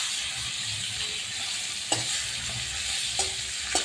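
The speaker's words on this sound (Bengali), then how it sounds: "তেল গরম হয়ে গেছে, মাছ দিয়ে দিচ্ছি।" Koi fish frying in hot oil in a home kitchen, a steady low sizzle with a few sharp spits and pops, close and alone.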